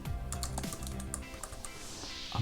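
Close, steady clatter of keys typed on a computer keyboard while searching on LinkedIn, a continuous run of quick taps with no talk over it.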